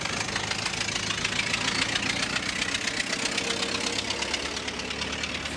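A car engine runs steadily throughout, a continuous low mechanical hum with a faint knocking texture that holds at an even level with no talking over it.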